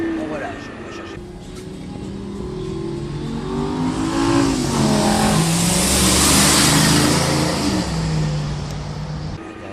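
A Lamborghini LP640 on a racing circuit accelerates hard, the engine note rising loud and close, dipping at a gear change and climbing again, while an instructor talks over it.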